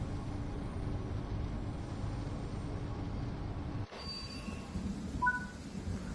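Train braking in the Train Sim World 3 video game, a steady low rumble of rolling stock with brief high thin wheel squeals appearing late, continuous and close, without speech.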